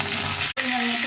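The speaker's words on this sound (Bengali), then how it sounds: "এর মধ্যে আমি কিছুটা 5 ফোড়ন দিয়ে দেবো" Panch phoron spices sizzle in hot oil in a wok, a dense and loud crackling hiss that cuts out for a split second midway and then carries on steadily.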